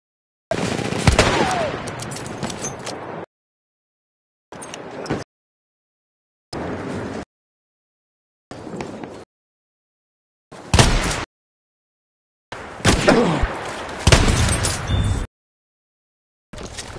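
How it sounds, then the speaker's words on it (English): Battlefield 1 machine gun fire comes in several separate bursts of rapid shots, loud and close, broken by silent gaps, with two longer volleys at the start and near the end. "Machine gun."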